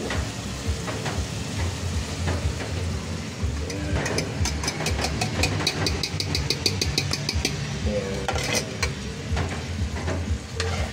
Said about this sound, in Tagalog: So, may mantika na siya. Ilagay natin itlog.